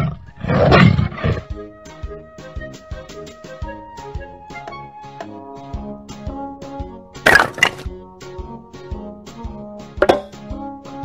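A tiger roars loudly and close at the start, followed by a bright melodic music bed with further roar-like bursts near the middle and end; no talking.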